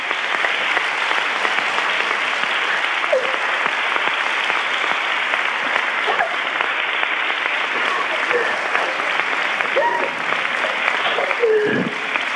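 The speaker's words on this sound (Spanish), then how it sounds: "un aplaudiment per ella" Audience applause at a Llamada FM 2018 event with a jury present, a dense, steady wash of many hands clapping that holds loud and unbroken throughout, with a few faint voices and whistles rising above it.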